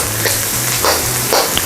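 Garlic and onion sizzle steadily in a hot pan, a close, constant frying hiss with a few soft stirring scrapes as they are moved around.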